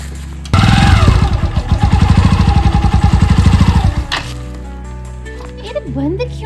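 A motorcycle engine starts and runs with a loud, fast-pulsing rumble close by for a few seconds, then cuts out, followed by quieter handling noises.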